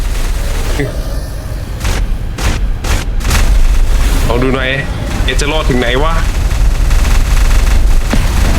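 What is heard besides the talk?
cannon and gunfire in a video game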